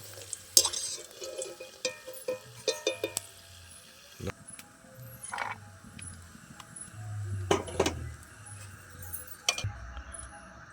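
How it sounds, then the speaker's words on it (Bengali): Fried nuts lifted out of hot oil in a pan while making cauliflower singara, with soft scraping and clinking of a utensil in irregular bursts over a faint sizzle, close and fairly quiet. "বাদামগুলো খুব ভালো করে আমি ভেজে নিয়েছি এবার আমি তুলে নিচ্ছি"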